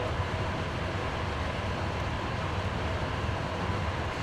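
A first-class train carriage rolls along between Wrocław and Poznań in Poland, a steady low rumble and rattle heard from inside, continuous and moderately quiet, with no talking.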